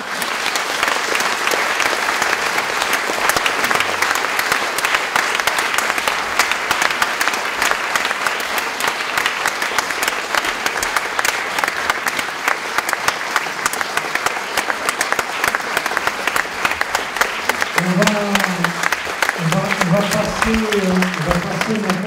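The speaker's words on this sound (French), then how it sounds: "je pense que les applaudissements sont plus que mérités" Sustained audience applause, dense and loud, filling the whole stretch, with a voice starting to speak over it near the end.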